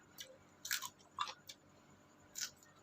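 A few sharp crunchy bites into raw, crisp home-grown eggplant, close and separate, with quiet gaps between each crunch and no talking.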